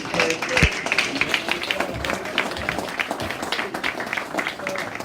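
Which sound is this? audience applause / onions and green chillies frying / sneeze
audience applause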